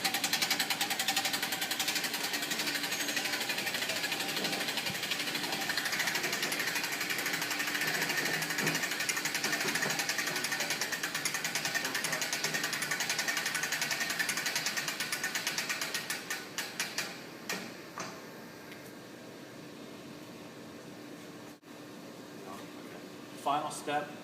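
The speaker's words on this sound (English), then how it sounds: "Go ahead and wind it all the way up so that you can do the last detail parts." The crank mechanism of an Iniala drawbridge table being wound up, a continuous whirring mechanical drone with a ratcheting edge that runs steadily before tapering into scattered clicks and knocks, with a voice speaking over it.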